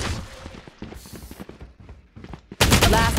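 Gunfire in the shooter Valorant: several sharp, close shots in quick succession, followed by a loud, harsh burst near the end.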